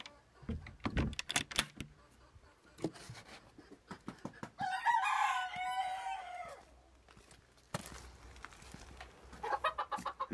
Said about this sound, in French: Vient une seconde porte où se trouvent 5 petits coqs ardennais.